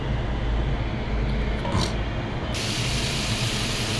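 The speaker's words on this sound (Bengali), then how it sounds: "এদিকে আমি আমার কড়াই গরম হয়ে গেছে। আমি এখন এর মধ্যে তেল দিয়ে" Oil hitting a hot kadai breaks into a loud, steady sizzle with hissing spray that jumps sharply in brightness partway through and holds, close and alone.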